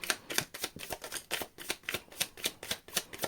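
Tarot cards shuffled close by in quick, regular riffling bursts, about ten crisp flutters in a row, with no talk.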